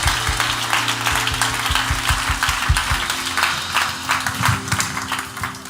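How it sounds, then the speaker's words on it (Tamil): A church congregation claps during a Tamil New Year promise sermon, loud, rhythmic and close, with a strong beat under the sustained clapping and a low accompanying drone. "நல்லா கைதட்டுங்க, தேவனை மகிமைப்படுத்துங்க."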